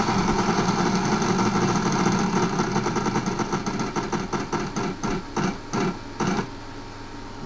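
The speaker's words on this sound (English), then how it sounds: "Spin the wheel." Prize wheel spinning in the Wheel of Fortune game on Nintendo DS, a loud run of rapid clicks that gradually spaces out and slows as the wheel winds down, with no talk.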